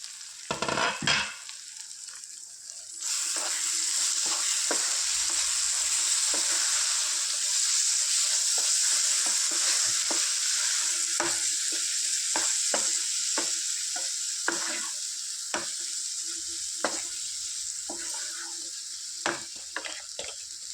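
A potato and tomato curry cooks in a pan. A few sharp knocks come first, then a loud, continuous sizzle runs throughout, broken by scattered clicks of stirring, with no voices.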